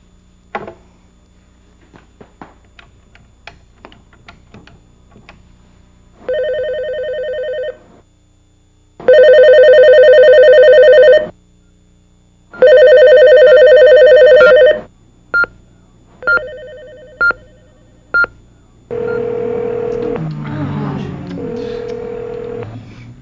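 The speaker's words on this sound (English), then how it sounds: "can I use my free phone call? I want to call my friend Jody" A telephone is dialed and rings in a game show setting: a string of short clicks and button tones, then repeated loud electronic ring bursts with pauses, ending in a different warbling tone.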